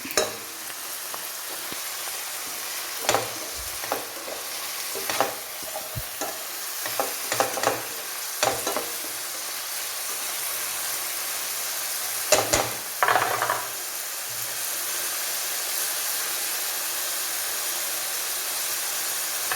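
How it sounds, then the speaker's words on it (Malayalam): Onions and salt sautéing in a pan for pork ularthu, a steady close sizzle punctuated by irregular scraping stirs and clatters of the spoon against the pan. "ഉപ്പ് വഴി ഇട്ടു ഇനി നമുക്കിതൊന്ന് വഴറ്റിയെടുക്കാം"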